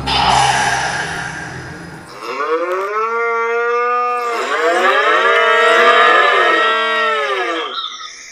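A herd of cows in the Breton countryside moos in long, loud, overlapping calls, one after another with no pauses, while a shorter noisy sound comes before them.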